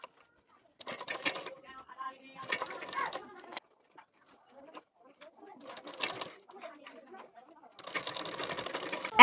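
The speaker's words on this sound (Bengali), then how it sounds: "এখান থেকে একটা সেলাই দিয়ে নিচ্ছি" A sewing machine stitches pleats onto fabric in short, soft bursts of rapid mechanical whirring separated by pauses, close and quiet, ending in a longer run.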